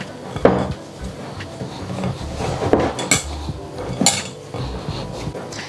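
Sticky sugar doughnut dough being kneaded and rolled by hand in a bowl, with soft squelching and a few knocks and clinks against the dish, close and steady, no voices.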